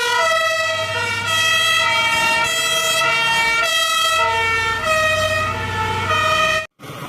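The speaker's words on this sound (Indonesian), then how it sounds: "Keluar mobil pemadam kebakaran." A toy fire truck plays a loud electronic siren with steady wailing harmonic tones for about six and a half seconds, then cuts off abruptly near the end.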